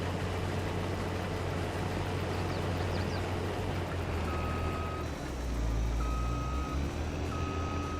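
Steady reversing beeps from a truck in Farming Simulator 22, sounding over a constant loud engine drone with a low rumble throughout and no talking.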